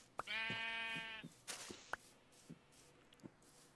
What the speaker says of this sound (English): Got some nice little sheep.